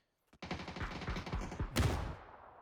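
Rapid bursts of gunfire in a PUBG esports match, a sharp volley of close shots opening the clip and a second loud cluster near the end, with no talking.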